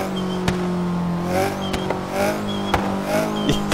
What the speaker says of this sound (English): this has got to be the absolute goofiest blow-off valve I've ever heard on any car in any Forza game